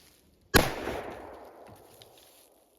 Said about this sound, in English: Try to shoot that can as quick as we can.